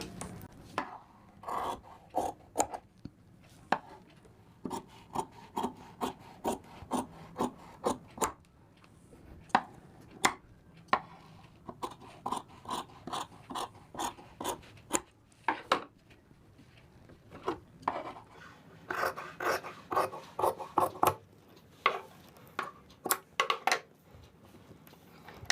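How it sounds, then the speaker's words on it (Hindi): Scissors cutting shirt fabric at a tailor's table, giving a series of crisp snips and rasping cuts in irregular bursts, close and clear with short pauses between runs and no talking. "ये अब मैं इसकी कटिंग करके दिखाऊंगा।"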